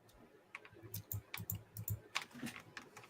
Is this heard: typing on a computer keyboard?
yes